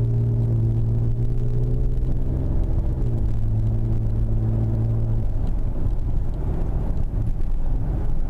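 A Ford Explorer Sport with twin turbos and a Borla exhaust cruises steadily, giving a continuous low droning rumble with a slight pitch shift partway through, heard from inside with some wind noise and no talk.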